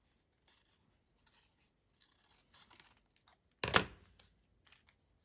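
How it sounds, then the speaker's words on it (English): Scissors fussy-cutting paper around clusters of shapes: sparse, quiet snips spread out over several seconds, with one louder burst of cutting and rustling near the end. "What if I were to just do a little bit of a more of a fussy cut around these?"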